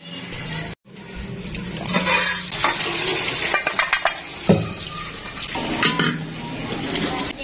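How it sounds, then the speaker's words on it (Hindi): Dal tadka tempering in a home kitchen, with sizzling and spoon stirring against a pan, scattered clinks of utensils, close and moderately loud, no talking. "मैं जो है जल्दी जल्दी यहाँ पे दाल का तड़का बना लेती हूँ"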